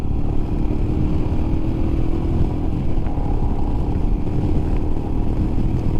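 A 2021 Royal Enfield Himalayan BS4 motorcycle is ridden with its engine droning in a loud, continuous low rumble, mixed with steady wind and road noise and no voices.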